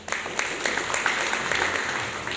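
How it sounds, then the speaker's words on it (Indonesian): Brief burst of audience clapping at a gathering in a church-run dormitory in Jayapura, a room full of hands applauding together at moderate volume for a couple of seconds. "Kita aplaus untuk Tuhan Yesus."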